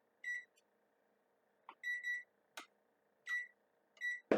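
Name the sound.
kitchen timer beeping as it is set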